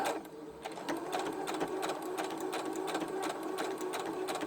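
A sewing machine back stitches fabric for ruffles and button trim, a steady, close mechanical whir with fast, regular needle clatter running throughout.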